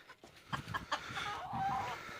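Chickens and a rooster clucking nearby, a few short bursts of clucks followed by a longer drawn-out call, fairly faint with a quiet background.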